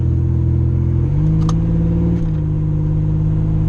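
A car engine idling and revving after a misfire repair, a close, steady low rumble whose pitch steps up and down as the revs change, with a brief clink partway through and no talking.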